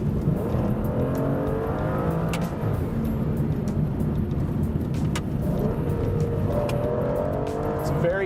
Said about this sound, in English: I up it to track mode, and I start playing with the paddle shifters here on the steering column